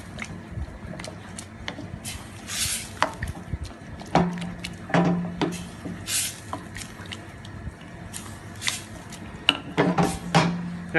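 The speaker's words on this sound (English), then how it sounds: "Now, just leave that there for a moment and mix this through." Metal spoon scraping and clinking around a pot while green Thai curry sauce is mixed, with irregular knocks, soft wet squishes and sloshing at close range, no talking.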